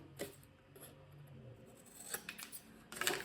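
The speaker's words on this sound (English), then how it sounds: "I'm going to cut at a 45-degree angle" Scissors cut the corners of thick layered cardstock tabs at an angle, giving a few close crisp snips at separate moments over a quiet room, with the last cut the loudest.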